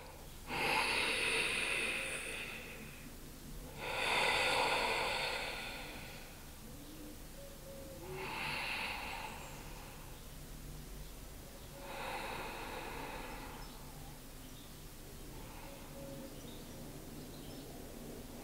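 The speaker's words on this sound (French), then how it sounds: "On va faire juste 3 respirations ici." Slow, deep breaths taken during a full-body stretching and flexibility session on the floor, about four long breath cycles, each swelling and fading at an even pace, close and clear with no talking.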